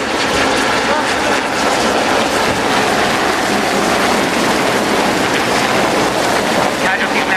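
Hawk jets roar in for a final strike at the Yeovilton Air Day finale, a loud, continuous broadband rush of engine noise mixed with wind buffeting the microphone that holds steady throughout.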